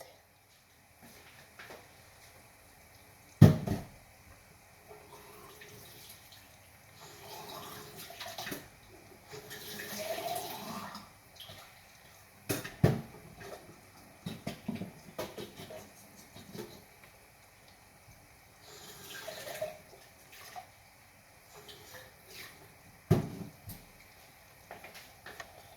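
Water runs from a tap while salty food is rinsed and strained, a faint, uneven splashing with a few sharp clatters of dishes, and quiet background sounds around it.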